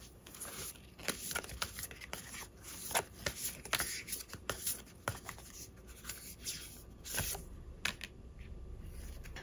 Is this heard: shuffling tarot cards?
yes